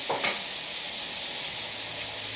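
Bottle gourd and cabbage sautéing in a small amount of cooking oil, a steady close sizzle with a brief stir or clatter at the start, no talking.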